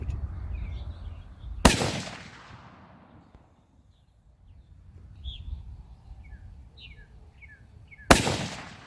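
Two loud, sharp rifle shots firing reloaded Terminal Ascent bullets at an outdoor range, several seconds apart, with birds chirping faintly between them.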